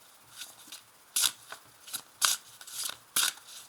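Tarot cards shuffled in several crisp, rustling bursts with short pauses between them, close and fairly quiet.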